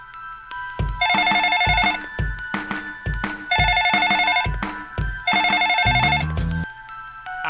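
A telephone rings in the School Simulator video game, loud, repeated electronic ringtone bursts in three groups over steady game background sound, with no talking.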